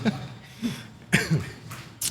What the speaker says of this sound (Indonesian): Dari tadi ingin batuk.